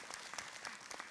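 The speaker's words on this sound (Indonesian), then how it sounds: "Kasih tepuk tangan dulu dong Bu." Studio audience at an Islamic talk show giving a brief round of applause, faint and distant, a soft scattered patter of clapping that lasts only a moment.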